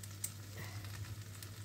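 Cottage cheese pancakes fry in a pan that they keep sticking to, a soft, steady, fairly faint sizzle with light clicks, heard alone.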